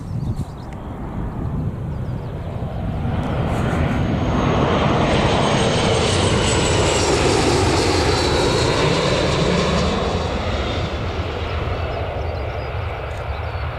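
A Loganair propeller airliner lands at Newcastle Airport, its engines a loud, sustained broadband roar that builds within the first seconds and then holds steady and close throughout, with no voices over it.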